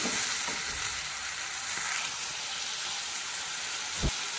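Spice paste sizzles and fries in a pan for a spinach dish, a continuous close crackling hiss with occasional soft stirring scrapes and no talk.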